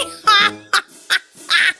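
A duck call blown as a prank, sounding as four short raspy quacks in an uneven rhythm, loud and close, with no talk around them.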